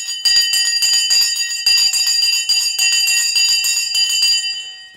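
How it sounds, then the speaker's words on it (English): A stock exchange closing bell rings loudly and steadily for several seconds, a bright metallic ringing with rapid rhythmic pulses, heard alone without talk. "The Sensei bell has now gone, and we're in the after hours."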